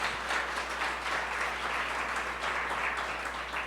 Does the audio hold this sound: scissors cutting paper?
no